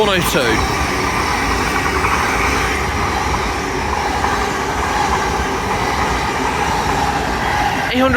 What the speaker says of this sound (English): And passing through now will be a LNER Azuma from London King's Cross to Inverness.